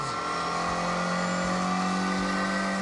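A twin-cam 1.6-litre car engine in a video game holds a steady, high buzzing drone, loud and continuous throughout with a constant pitch, heard alone without talk.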